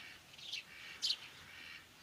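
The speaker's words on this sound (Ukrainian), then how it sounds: "Кавалер проводить гусиню." Geese in a village yard give a couple of faint, brief honking calls at a distance over a steady rural background hiss.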